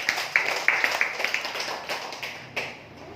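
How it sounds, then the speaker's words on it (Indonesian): At a sharia business seminar, a few people clap for the company's CEO, giving sparse, distinct claps in an uneven rhythm, fairly close and thinning out. "Beri tepuk tangan buat Haji Febrian Agung."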